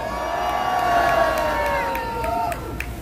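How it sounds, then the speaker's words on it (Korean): A large crowd at a rally in front of the presidential residence in Hannam-dong, Seoul, cheers and claps continuously, loud and close, with whistles and shouts rising over a steady wash of applause. "큰 박수와 함성"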